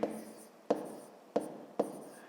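Handwritten digits being written, likely with a pen or chalk, for a fifth-grade math exercise: four distinct scratchy stroke bursts, each sharp onset fading out, evenly spaced with short pauses, close and alone.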